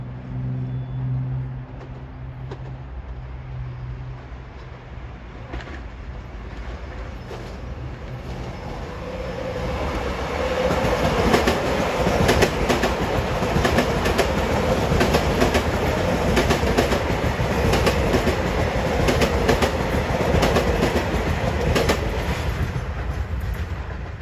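A Long Island Rail Road passenger train approaches and roars past close by at Elmont station, a loud steady rumble with rhythmic clacking of wheels over rail joints, building after a quieter start.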